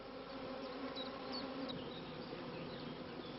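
Honey bees in an apiary buzz around a hive where a caged queen sits, a faint continuous dense drone with a few individual bees whining past close by.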